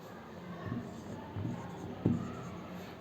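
A pen or marker scratching out numbers in short strokes, three brief bursts of writing over a quiet room background, as a teacher works on a large-number place value problem.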